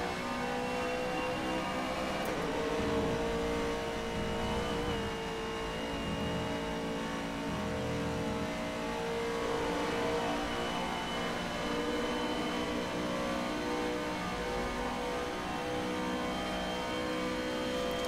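A GTE Pro race car engine in a sim racing game, holding a sustained high whine with shifting revs and a few gear changes, steady and continuous with no talk.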